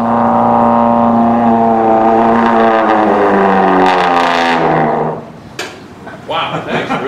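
A trombone imitates a Cessna 182 taking off, a loud sustained buzzing tone that rises and slides upward for about five seconds, then cuts off into applause and scattered noise at an outdoor brass quintet concert.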